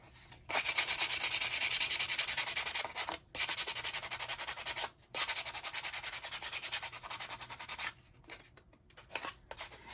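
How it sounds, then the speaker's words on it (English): Sandpaper rubs across a painted chicken figure in long, steady scratchy strokes, several sustained bursts of sanding close up, separated by brief pauses, with shorter quicker rubs toward the end. "You can sand as heavy or as light as you want."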